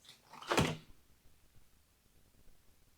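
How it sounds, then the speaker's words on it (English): A refrigerator door is pulled open with one quick, fairly loud thunk and rattle near the start, followed by a faint low hum while the power is off. "Now I'm going to open the refrigerator door"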